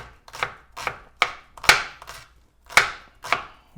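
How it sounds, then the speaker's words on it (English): A knife mincing shallots on a board, seven or eight crisp chopping strikes in an uneven rhythm, each a sharp close knock with a short ring, no voices over them. "we're just going to do like a small mince on these shallots"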